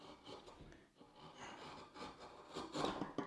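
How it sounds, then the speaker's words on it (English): A DeWalt chisel pares a hard maple board, making a continuous close rasping and scraping as it shaves off curls. The strokes swell and ease in loudness and grow strongest near the end, with no talking. "Now testing the dewalt one back on the hard piece of maple here."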